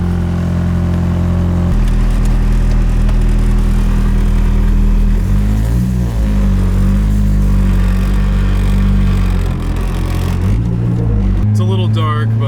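Nissan 240SX with a swapped SR20 engine idling up close, a loud, steady low rumble with slight shifts in pitch, and a short rev near the end; a voice talks over it.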